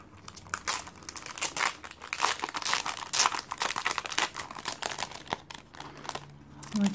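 A JacmoBlue vellum package being unpacked, with its extra goodies pulled out: continuous close crinkling and crumpling of paper and plastic, busy and fairly loud, without speech.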